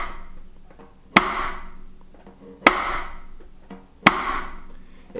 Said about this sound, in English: same velocity, same stick on this Groove Wedge for side stick